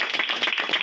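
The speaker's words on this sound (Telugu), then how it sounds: "అందరూ చప్పట్లు కొడదాం." A church congregation claps together after a baptism, a brief dense burst of many hands at close range.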